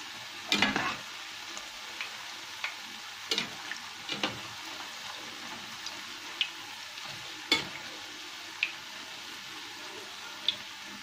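Zalabia dough frying in hot oil as the pieces are turned, a steady soft sizzle broken by several sharp clicks and taps of the utensil against the pan, heard alone.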